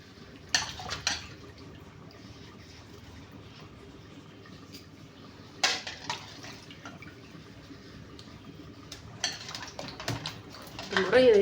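Sweet potatoes are washed in water, with splashing and knocking bursts against a container separated by quieter stretches of dripping and faint background noise.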